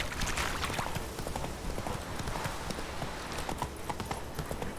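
Hooves of a horse clip-clop at a gallop in The Witcher 3 video game, a fast, steady drumming of hoofbeats over a continuous bed of ambient game sound, moderately quiet.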